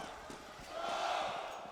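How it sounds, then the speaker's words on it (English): An esports crowd cheering at a CS:GO match, a broad roar that swells in the middle of the clip and stays loud under faint surrounding noise. "the crowd certainly is behind them right now"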